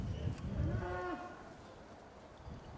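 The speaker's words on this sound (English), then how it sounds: "I'm going to see if we can ease these cows down the fence." Cattle being moved along a fence on horseback let out a single deep, drawn-out moo, fairly close and clear, with rustling and ambient outdoor noise around it.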